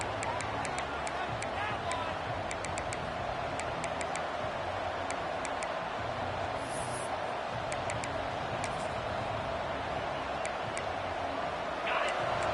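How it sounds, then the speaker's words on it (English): A home college football crowd at Louisville, hosting SMU, keeps up a steady, dense roar through kickoff, with a commentator talking over it. "this home crowd is fired up and ready to make a difference today"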